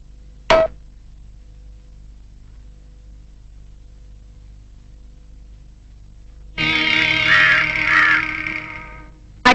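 A crow gives a sharp single caw, then after a long quiet pause lets out a louder burst of harsh repeated cawing, close and clear against near silence.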